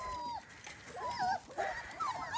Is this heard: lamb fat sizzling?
no